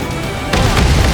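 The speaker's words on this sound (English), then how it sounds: "What was that explosion?" A deep, heavy boom bursting in mid-scene during an Ace Combat 7 air battle, a loud close blast with rumbling aftermath, no talk over it.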